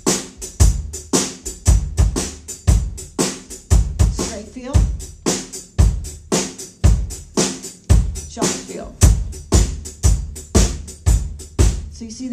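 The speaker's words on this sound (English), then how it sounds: "Versus a shuffle, which is based upon triplets" A drum kit plays a triplet-based shuffle groove, its hi-hat swinging in a steady loping pattern over repeated kick and snare hits, close and fairly loud with no talking.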